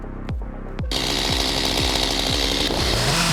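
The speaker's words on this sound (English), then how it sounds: "He places the chainsaw right on the tension point, controlling every cut with a steady hand." A chainsaw cuts into a maple root ball during stump removal, starting with a few sputtering pulls before revving to a loud, continuous buzzing drone with pulsing throttle changes.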